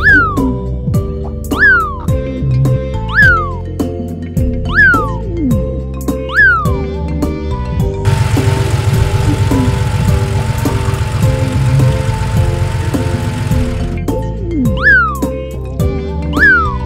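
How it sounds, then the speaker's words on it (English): A cartoon cat meows repeatedly in a children's puzzle game, short rising-falling calls at a steady rhythm over music, pausing while a vehicle engine idles in the middle before the meows return. "Meow."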